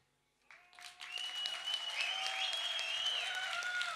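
An audience at the Startup Show breaks into applause after a brief quiet moment, swelling quickly into sustained, even clapping that holds strongly to the end.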